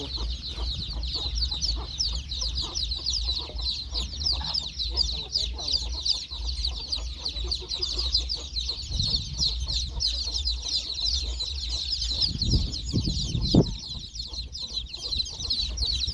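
Mother hens with chicks clucking near and far over constant cheeping of young chicks, with louder hen calls toward the end.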